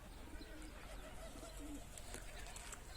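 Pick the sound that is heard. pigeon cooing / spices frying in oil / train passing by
pigeon cooing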